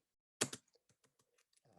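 Two firm keystrokes on a computer keyboard, a short burst of clicks while typing a print command at a command line, followed by a few faint scattered key taps in a quiet room.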